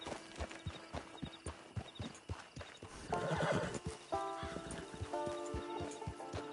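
Horse hooves clip-clop in a steady walking rhythm with a neigh midway, from the Western video game Red Dead Redemption, moderately close and fairly quiet, with no talk.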